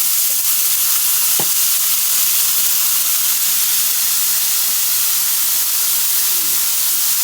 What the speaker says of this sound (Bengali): বেগুনগুলো দেখি ভাজতে পারি নাকি।